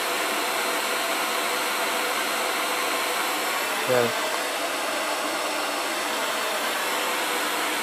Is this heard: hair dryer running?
yes